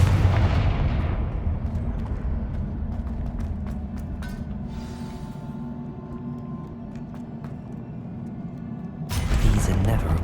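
A Confringo fire spell explodes in a Harry Potter video game, heard as a dense, loud rumbling blast that sustains throughout, with a fresh burst near the end amid game effects.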